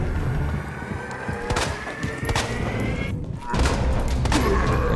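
Gunshots in the Resident Evil 2 survival horror game ring out as a few loud reports over a dense, noisy game background, with a brief hush before the din resumes.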